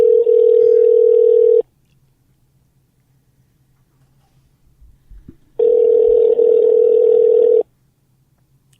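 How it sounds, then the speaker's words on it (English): A telephone call rings out on the line, two long steady ringback tones about two seconds each separated by a few seconds of near silence, clear and alone. "We're drunk dialing Rich Mitchell right now, owner of Ground Force Fights."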